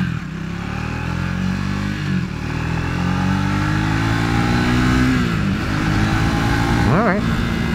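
Triumph Speed 400 motorcycle engine running steadily while riding, a buzzy mid-pitched drone with rising and falling revs through gear changes, close and continuous under a man's speech.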